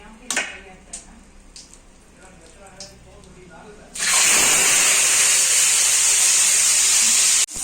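After faint kitchen clatter and a voice, a loud, steady hiss of oil heating in a kadai starts abruptly and continues close by without letting up.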